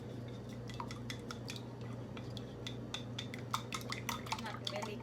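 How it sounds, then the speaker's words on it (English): Four eggs being mixed in a bowl while making Lao num mee ka tee, with scattered light clinks and taps of a utensil against the bowl over a steady low kitchen hum. "I'm gonna mix egg. I add 4 eggs in here."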